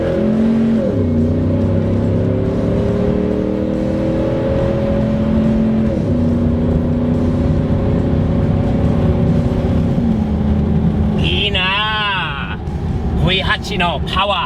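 Deep, steady rumble of a Dodge Charger R/T 6.2 litre V8 engine, loud and close, holding and shifting pitch with a few rises, with other sharp sounds in the last few seconds.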